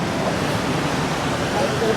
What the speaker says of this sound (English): Baby surf.